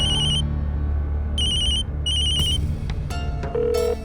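A phone ringtone chimes in repeated short bursts, loud and close, over a steady low rumble with a few clicks near the end.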